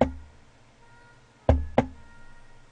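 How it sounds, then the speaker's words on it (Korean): Two sharp knocks on a door in a quiet room, spaced about a quarter second apart and coming after an earlier faint thump, set against a low, hushed background in a horror radio story. "하필 내가 이렇게 글을 읽는 타이밍에 노크 소리라니."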